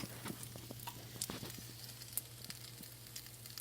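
Banana slices with Nutella frying in a pan, a soft steady sizzle with small pops and crackles, close and quiet, with no talking.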